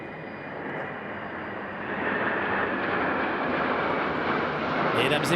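Jet aircraft of the Patrouille de France display team passing over the Paris Air Show, a broad, steady roar that swells slightly and holds loud throughout, with crowd ambience underneath.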